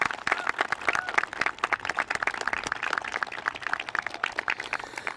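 Schoolchildren at a Catholic school Arbor Day assembly cheering and applauding, a dense, steady burst of many hands clapping with scattered shouts, loud and continuous throughout.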